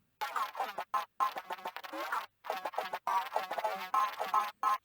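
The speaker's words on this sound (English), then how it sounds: "I chopped it up and arranged it so it sounds kind of funky and almost like scratching" Short, choppy bursts of a chopped-up vocal-like sample stutter in a funky rhythm with abrupt cuts, resembling turntable scratching.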